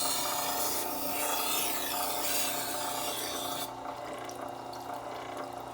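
Light, rhythmic rasping strokes of a chef's knife refining the burr on a sharpening stone, repeated scrapes close up, softening slightly toward the end, with no voices.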